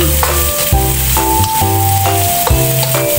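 Beans and carrots are stirred into flat noodles frying in a pan, a loud, close sizzle with stirring scrapes under a looping music bed, with no voices.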